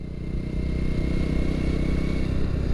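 A motorcycle ridden fast by a small child along a road through rice fields, a loud close engine drone with rapid rhythmic pulsing and clatter, steady throughout with no talk.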